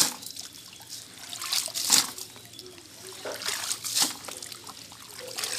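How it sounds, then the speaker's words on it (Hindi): Water trickling and dripping out of a perforated pot after washing ingredients for pickle in a home kitchen, a close, soft, uneven stream with a few louder splashes. "सारा पानी निकल जाएगा"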